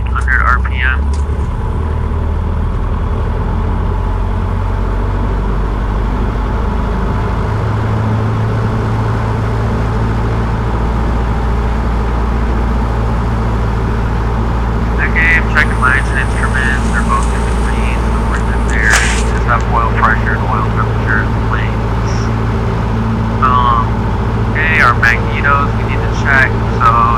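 A light propeller airplane sits on the ground during its engine run-up at 1700 RPM, a loud, steady drone that stays constant throughout, with intermittent speech heard over the engine.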